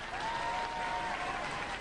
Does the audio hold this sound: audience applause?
yes